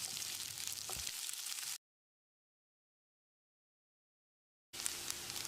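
Sliced onions and dried red chillies sauté in a pan with a steady, close sizzle, broken by about three seconds of complete silence before the frying resumes; no one speaks.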